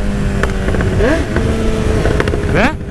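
A Honda CB1000 motorcycle engine revs hard against its rev limiter, giving a rapid stuttering cut-off with rising and falling whine, close and loud, with some voice or background noise mixed in.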